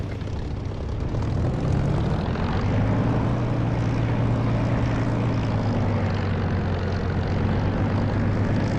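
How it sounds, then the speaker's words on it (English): Propeller aircraft engine in the DCS flight simulator game, a loud continuous drone rising in pitch as power builds for takeoff, steady and dominant throughout with no talking. "I'll move roughly centre runway and take off"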